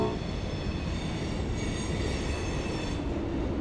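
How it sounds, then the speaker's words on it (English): A train rumbles past close by at night in Old Louisville, Kentucky, a steady loud roar of wheels on rails with faint metallic squealing, and nobody speaks. "Ugh, train."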